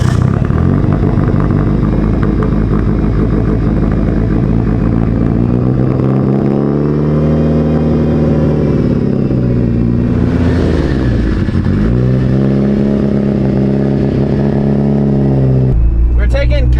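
Mitsubishi Evo wagon engine revving while driving, loud and close, with rising and falling pitch through gear changes and a steady throaty drone, while voices talk over it.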